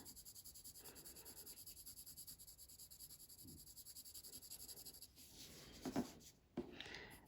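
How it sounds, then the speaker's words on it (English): Pencil shading pressed hard across paper, a soft continuous scratchy rubbing that runs steadily at close range, growing slightly louder and more abrasive toward the end with a few sharper strokes. "Press hard, move your hand further down the pencil."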